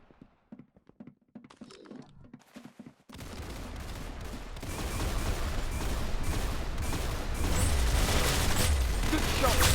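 Video game gunfire: sparse sharp clicks and thuds at first, then a sudden switch to dense rapid shots over a rising rumbling roar that grows louder to the end, close and loud.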